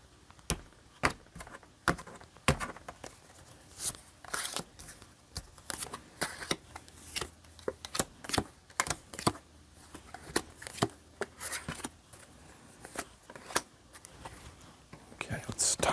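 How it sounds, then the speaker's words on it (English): Tarot cards are shuffled and cut by hand, giving sharp riffles and clacks in an uneven rhythm that runs steadily for about sixteen seconds, close to the listener and heard alone. "And we'll do one more shuffle, and then we'll cut the cards."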